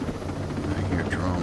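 Helicopter in the video game Ghost Recon Breakpoint, a steady low rotor drone running throughout under a speaking voice.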